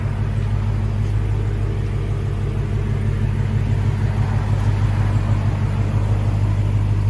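A Dodge Challenger Hellcat SRT with its 6.2L supercharged Hemi V8 runs steadily, a deep, continuous idle rumble close by with no voices over it.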